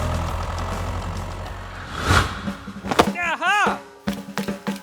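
A small DIY mini tractor engine runs with a steady low rumble that rises in intensity midway, followed by brief rising and falling whirring tones and short bursts of mechanical noise.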